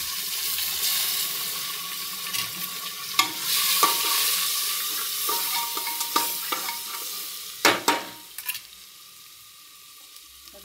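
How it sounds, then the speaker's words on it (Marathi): Onion frying in oil with mustard seeds, turmeric, asafoetida and tomato, stirred in a pan: a steady sizzle broken by sharp spoon scrapes and knocks that fades toward the end, without speech. "कांदा टाकला आहे फ्राय करायला"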